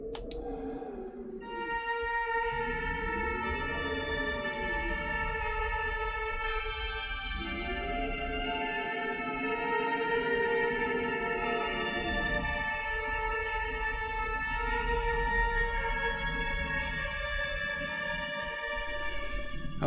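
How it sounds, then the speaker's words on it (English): The Moonsong melody in the video game Project Zero 4: Mask of the Lunar Eclipse, a sustained, bell-like tone with layered harmonics and a slow gliding melody. It plays alone and steadily for the whole stretch. "So, this is the Moonsong"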